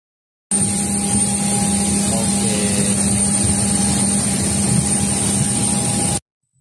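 A constant loud roar of jet engines fills the cabin of a large passenger airplane, an unbroken steady hum that cuts off sharply at the end, with no talking.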